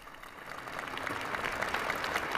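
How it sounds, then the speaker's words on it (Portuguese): A large crowd in St. Peter's Square applauds Pope Leo XIV, a broad, continuous wash of clapping from many people at a distance, swelling slightly in strength. "E o aplauso de toda a Praça São Pedro a Leão XIV."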